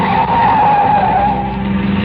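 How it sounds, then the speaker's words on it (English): A car skidding hard through a sharp curve, tires squealing and brakes screeching in one loud continuous shriek that wavers slightly before easing off. "In my ears was the screeching of brakes, of tires taking a wild curve"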